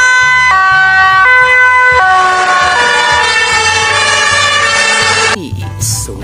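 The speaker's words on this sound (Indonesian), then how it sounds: "ternyata ini mobil pemadam kebakaran atau fire truck" A loud electronic toy fire truck siren wails with a steady two-tone pattern, then cuts off abruptly near the end, leaving faint background noise.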